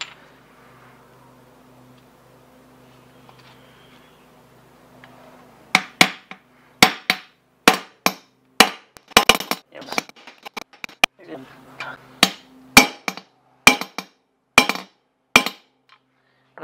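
Sharp metallic hammer blows drive a bearing race into a Ford 8.8 differential case, a quiet hum and then a steady run of about twenty ringing strikes, close and loud.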